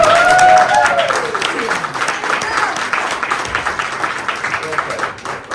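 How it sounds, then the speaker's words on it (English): An audience at a community award presentation breaks into full clapping that starts loud and slowly thins out, while a voice speaks briefly over the first moments. "It's now the Jason Gray Advocate Award, so big round of applause."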